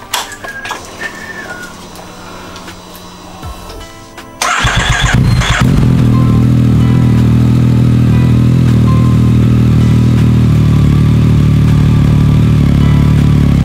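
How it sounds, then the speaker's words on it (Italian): A motorcycle engine cranks and fires into a steady, loud idle after an oil and filter change, preceded by a few seconds of quieter workshop clicks and handling noises. "accendiamo la moto e controlliamo il livello dell'olio"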